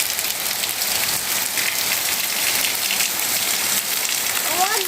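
Heavy monsoon rain pours down in a village, a dense steady hiss of drops on surfaces that stays loud and unbroken throughout.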